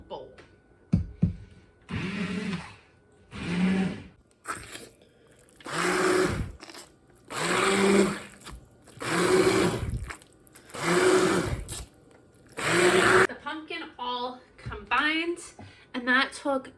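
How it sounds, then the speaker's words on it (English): An immersion blender purées pumpkin in a small bowl in about seven short, close bursts of buzzing whir separated by brief pauses, with a voice speaking at the end. "we are going to immersion blend this so it's nice and smooth"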